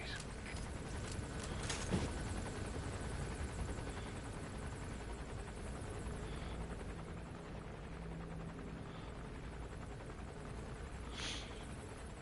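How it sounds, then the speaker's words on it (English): An enemy gunship helicopter in Metal Gear Solid V thrums with a continuous, steady rotor chop throughout, moderately close, with a few brief clanks and impacts layered over it. "That's an enemy gunship."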